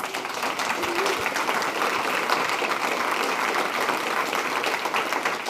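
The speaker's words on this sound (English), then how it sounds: "Can we just like give them a round of applause?" A room of people at a members' night event claps together, a dense, sustained round of applause at moderate distance that holds evenly throughout with no individual voices standing out.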